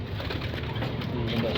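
Pigeons coo softly in a loft, low murmuring calls heard over a bit of background noise, with a person talking nearby.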